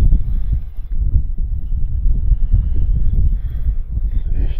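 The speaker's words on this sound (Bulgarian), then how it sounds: "Това вятър." Steady gusty wind buffets the microphone outdoors on a shore while fishing among soft seaweed, a continuous low rumble with no let-up across the whole stretch.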